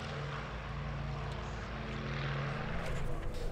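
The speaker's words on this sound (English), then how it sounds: "First to arrive is the Aero Commander 500, which supervises and coordinates the entire operation." Steady propeller drone of an Aero Commander 500 twin at the EAA AirVenture Oshkosh 2019 air show, a sustained low engine hum that swells slightly louder toward the end amid broad outdoor noise.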